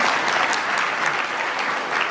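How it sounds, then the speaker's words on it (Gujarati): An audience at a Hindu religious discourse (katha) in Jetpur claps for the women attending, with brisk, even crowd applause sustained across the whole stretch and no voices heard. "બહેનો માટે તાળીઓ પાડે ભાઈ."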